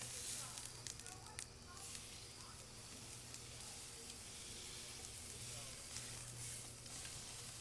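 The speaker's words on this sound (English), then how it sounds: "I'm going to go ahead and flip this steak." Marinated flank steak sizzles steadily on a hot grill, a loud, continuous hiss with occasional crackles.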